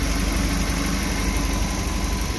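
Suzuki New Carry engine running warm after timing chain work, a steady mid-to-low idling drone with faint vibration, loud and close, holding evenly throughout with no talking.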